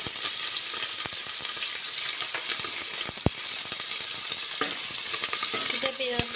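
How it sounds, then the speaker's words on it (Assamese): Chopped onions fry in hot oil in a pan, giving a loud, continuous sizzle with occasional scraping and clicking from stirring, close up and with no voices. "এতিয়া পিঁয়াজখিনি ৰঙচুৱা হোৱালৈকে অলপ সময় মই এনেকৈ ভাজি থাকিম"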